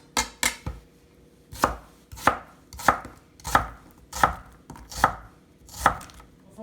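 A knife chops an onion into strips on a cutting board, two quick cuts followed by a series of evenly spaced sharp chops, close and clear with no talking.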